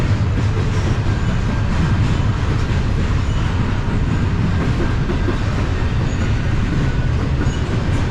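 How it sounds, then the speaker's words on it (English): A loud train rumbles past close by in Dalton, Georgia, wheels clattering steadily on the rails without a break. "Glad I got here in enough time to get the train."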